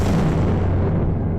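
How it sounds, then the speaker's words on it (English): A single massive explosion booms with deep, rumbling low end that fills the whole moment, loud and sustained without a clear attack or break. "That was the sound of an explosion."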